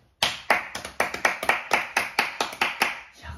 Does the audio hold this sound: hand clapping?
yes